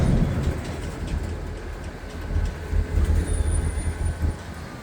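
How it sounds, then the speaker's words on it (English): A Florida East Coast Railway locomotive in breast cancer awareness livery rolls past up close, producing a steady, heavy low rumble and broad rushing noise that swells and eases slightly, with no voices. "The breast cancer awareness locomotive, up close and personal. Florida East Coast Railway."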